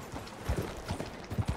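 Horse hooves clip-clop in an uneven, steady gait in Red Dead Redemption 2, fairly close and moderately loud, with no talking over them.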